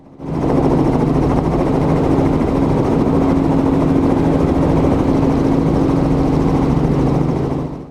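Helicopter hovering and making a pedal turn over a clearing, a loud continuous engine and rotor drone with a steady pulsing beat, close and unbroken, with no voices.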